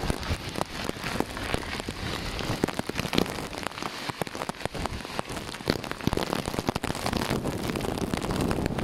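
Heavy typhoon rain pelts a surface in a dense, constant roar, with gusts of wind buffeting the microphone throughout.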